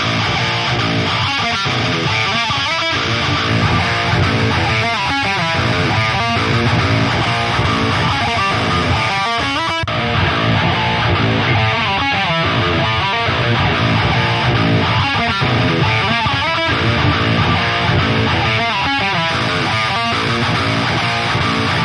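An 8-string electric guitar played through the Neural DSP Fortin Cali Suite amp with a soloed Dynamic 57 mic, chugging out a loud, heavily distorted, rhythmic riff that runs continuously.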